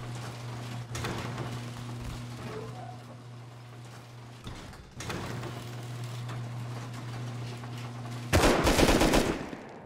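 Automatic gunfire during a base raid in the video game Rust, with bursts of rapid shots over a steady low hum and a louder, denser volley near the end.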